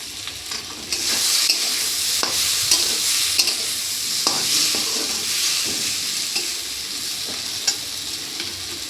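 Butter sizzles in a frying pan while food is stirred, giving a steady, close hiss broken by light scraping strokes of the spoon, with no one talking.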